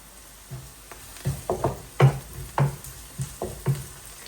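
Whole spices splutter and pop in hot oil, tempering a Tamil-style fish curry (meen kuzhambu) in a pan: about nine sharp, crackling bursts come at irregular intervals over a soft, steady sizzle, close up and with no talk.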